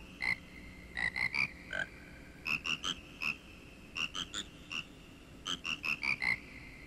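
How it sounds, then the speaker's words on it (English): Frogs sing in the Majora's Mask video game, a chorus of short bright croaking notes in quick clustered bursts with brief pauses, clear over a low steady game backdrop. "Wear the mask and talk to the frogs here."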